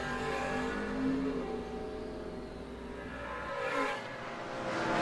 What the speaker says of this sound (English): driving the Camaro